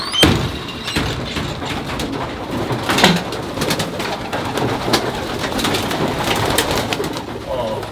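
Racing pigeons coo and rustle in a busy, reverberant loft, with occasional clatters and bumps mixed in.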